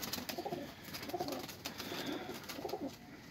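A Teddy breed pigeon coos in a loft in Lahore, soft rolling coos repeated three times in a slow rhythm, close but quiet against light background noise.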